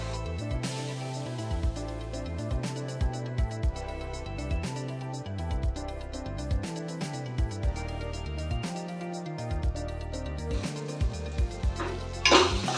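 Tomatoes for coconut milk crab gravy being stirred in a frying pan, with scraping and clinking of a spoon against the pan over steady background music.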